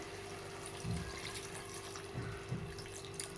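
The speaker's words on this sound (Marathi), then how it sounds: "थोडंसं पाणी टाकून घेते मी" Water is poured into a pan of brinjal curry as it cooks, a quiet steady trickle with a few soft splashes, faint and without talk.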